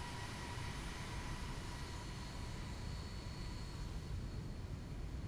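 A Boeing 737 taxiing in the X-Plane 11 flight simulator, heard as a constant low engine rumble and whine that holds steady throughout.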